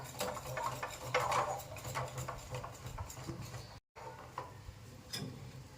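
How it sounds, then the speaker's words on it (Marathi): A spoon stirs a barfi mixture in a pan over a very low flame, giving soft, steady scraping and light clinking strokes that repeat throughout at close range, with no talk. "एकसारखं हलवून आपल्याला हे मिश्रण पूर्ण एकत्र करून घ्यायचं आहे गॅस मी अतिशय लो ठेवला आहे"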